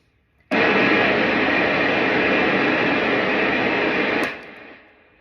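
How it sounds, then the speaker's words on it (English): A loud, harsh wall of distorted guitar noise through a mega distortion pedal starts abruptly, holds steady for about four seconds, then cuts off and fades. "I'm now going to engage a mega distortion pedal here."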